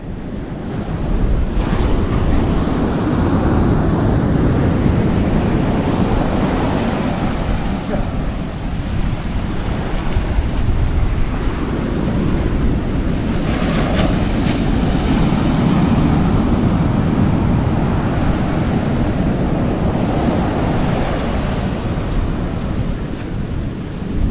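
Strong wind roars steadily at the seashore in Jaffna, mixing with crashing surf in a constant loud rumble, with no pauses throughout.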